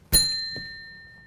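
A single bell struck once during a card trick rings out with a bright, sustained metallic tone that slowly fades over about a second, alone in a quiet room.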